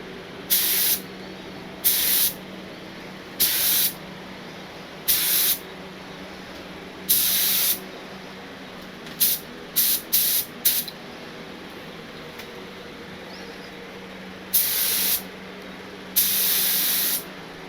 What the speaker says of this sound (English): Let's lay down a little tack base coat first.